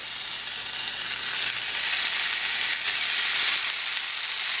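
Marinated beef hitting hot oil with garlic and ginger in a pan for lettuce wraps, a loud, continuous close-up sizzle with a steady hiss and no talking.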